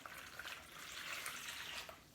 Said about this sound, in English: So just pour the water in